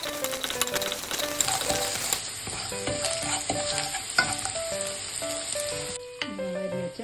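Ginger and garlic sizzle in a hot pan while a utensil stirs and scrapes, a continuous frying hiss with irregular taps over a few seconds, close and fairly loud, no talking.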